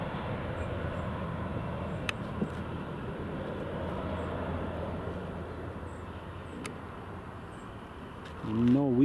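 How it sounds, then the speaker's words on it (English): A CRJ regional jet departs at Newcastle International Airport, a steady broadband engine roar held at moderate distance throughout, with a louder low rumble swelling near the end. "that's the CRJ just going"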